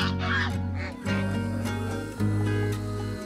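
Several geese honk loudly and repeatedly, their calls overlapping in a noisy, close chorus.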